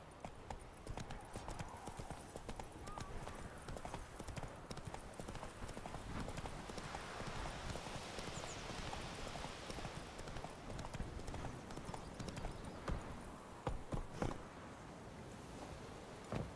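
Geralt's horse Roach clip-clopping steadily in The Witcher 3, a continuous run of hoofbeats over game ambience with a few louder thumps near the end.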